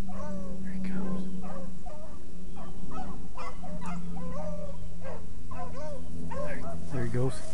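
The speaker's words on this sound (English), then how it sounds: "There's the dogs." Hunting dogs bark and bay in repeated bursts at middle distance while chasing a rabbit outdoors on a cold December hunt, with people talking over the calls throughout.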